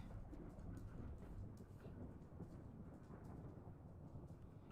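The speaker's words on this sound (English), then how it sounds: "Well, that's certainly thunder." Thunder in Minecraft on the Berry World SMP server: a faint, steady low rumble rolling on without clear breaks, quiet and distant-sounding, with no voices.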